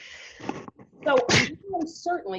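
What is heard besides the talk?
sneeze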